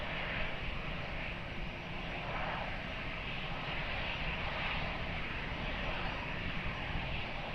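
An airplane on approach to land on runway 20 at Lisbon Airport, a steady broad engine roar holding at an even level throughout, with no voices.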